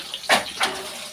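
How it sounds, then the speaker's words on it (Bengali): Water draining from boiled taro leaves poured into a basket, two short splashing gushes a moment apart, close and moderately loud over a quiet background. "ঝুড়ির মধ্যে ঢেলে তো জল ছাড়ানো হয়।"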